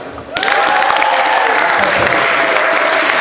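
Audience at a talent show breaks into loud, sustained applause after a brief quiet start, steady clapping filling the space with crowd noise throughout.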